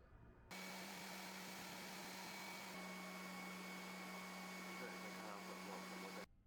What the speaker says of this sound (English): Turn on the guide belt, powder shaking, fan, and automatic powder return function.